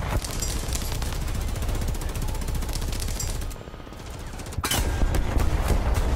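Tank gun fire in a tank combat video game aimed at an enemy tank's track: dense, loud rumbling barrage of shots and mechanical clatter, a brief dip in the middle, then a sharp blast and sustained roar.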